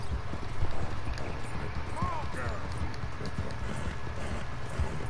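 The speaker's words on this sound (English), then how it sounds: "And my horse is having an asthma attack." Horse hooves clip-clop steadily close by as a horse trots in the video game Red Dead Redemption 2, with a constant low rumble and a person talking over it.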